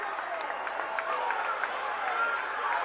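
Crowd noise from a boys high school basketball game in a gym, with Norristown fans cheering and clapping in a steady loud roar while a commentator talks over it.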